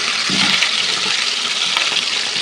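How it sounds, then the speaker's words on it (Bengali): Cauliflower florets are dropped into hot oil for frying, producing a loud, steady hiss of sizzling that fills the whole stretch without letting up. "এদিকে সেই তেলের ভিতরে এখন ফুলকপিগুলো দিয়ে দিব"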